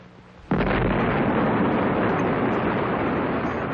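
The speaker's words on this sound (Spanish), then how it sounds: "Ver la explosión de una bomba en el desierto de Nevada" Nuclear bomb test explosion in the Nevada desert in the 1950s, heard as a sudden massive roaring blast that jumps out of a low hiss and then sustains as a dense, rumbling wall of noise.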